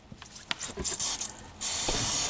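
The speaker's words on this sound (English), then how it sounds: "I hear water gushing out." Water sprays and hisses from a leaking PVC pipe after a freeze, starting in short bursts and then becoming a loud, steady rush that is close by.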